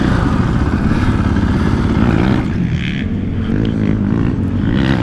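KTM 450 Factory Edition dirt bike engine droning steadily and loud through a ride on dry hard pack, with continuous close rumble and wind buffeting, the pitch dipping briefly midway before picking back up.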